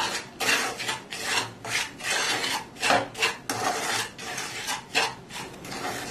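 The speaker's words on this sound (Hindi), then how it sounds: "इसमें हम बादाम भी डाल देंगे, ये भी थोड़ा इसके साथ रोस्ट हो जाएगा।" Almonds and golden-browning semolina roasting in a pan for badam suji halwa, stirred with steady repeated scraping and rasping strokes, close and fairly loud, with no talking.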